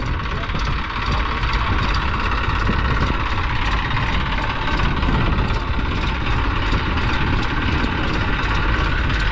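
An Eicher tractor on plain tyres, stuck in a rut, keeps its engine running with a steady, loud, low rumble and no break for the whole stretch.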